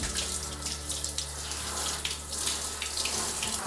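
Water pours steadily from a shower hose with the head removed while a dog is being washed and wet down. The flow is continuous and close, with a broad hiss and splashes. No one speaks.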